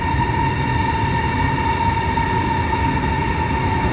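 A Chinese high-speed bullet train runs past on a neighbouring line at a station, a steady, loud rumble with a sustained tonal whine held throughout, no voices.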